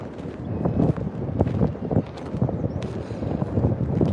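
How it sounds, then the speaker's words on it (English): Gusty wind buffets the microphone outdoors on a chilly, windy morning, a continuous low rumble with uneven surges and flutter running steadily throughout, loud and close. "and windy, like you can probably hear."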